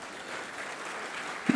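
An audience applauding at a stage function: soft, steady clapping for over a second, ending in a brief, louder burst.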